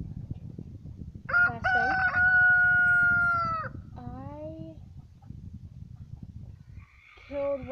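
Chickens on a backyard flock, with a rooster crowing loudly in long drawn-out calls and hens clucking briefly near the end, over steady outdoor rumble and a few spoken words.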